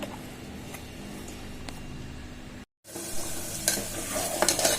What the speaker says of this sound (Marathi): आता हे फोडणीसाठी पण खडे मसाले टाकायचे आहेत आपल्याला